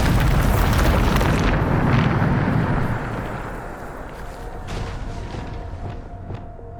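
A big magical blast from the Bombarda spell in Hogwarts Legacy: a loud, roaring explosion that booms at once, then rumbles and fades into a lingering tail with faint debris.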